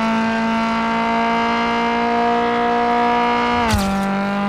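A damaged car engine in the GTA RP roleplay video game drones loudly at a steady high pitch for several seconds, then the tone drops sharply near the end with a brief burst of noise, with no voices over it.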